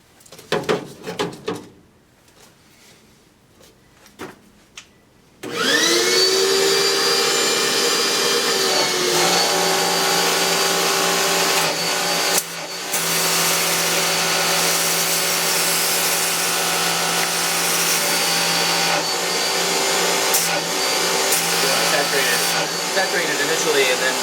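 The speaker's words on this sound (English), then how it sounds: "So first we're going to turn the vacuum on and then the power washer." After a few seconds of quiet clatter, a vacuum and a power washer start up together while a fan coil is being cleaned, a loud continuous motor whine and spray hiss that holds steady with a brief dip midway.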